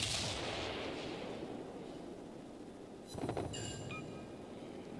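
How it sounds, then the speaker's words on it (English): A warship's gun salvo in the naval combat game World of Warships: a sharp blast about two thirds through, with a brief rumbling tail, following a steady low hum of engine and sea ambience, no talking. "I think his small guns are firing on me now."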